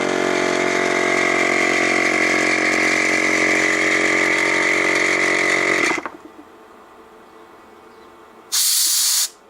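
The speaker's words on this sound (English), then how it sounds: "So for some reason it doesn't like that compressor." Air compressor powered by a TOPDON battery charger runs with a loud steady whirring drone and hiss, then cuts out abruptly, followed by quiet and a short burst of hissing air.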